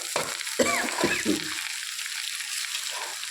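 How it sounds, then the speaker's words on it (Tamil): Flat beans (thattakkai) stir-fry being stirred in a pan after salting, with a couple of scraping spoon strokes near the start, then a faint steady sizzle from the cooking vegetables. "நல்லா ஒரு கிளறி விடலாங்க"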